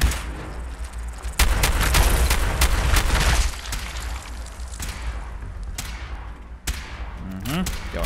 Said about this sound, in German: Zwei Schüsse mit dem Schrotgewehr